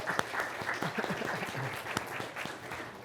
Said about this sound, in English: how about a round of applause for Lillian?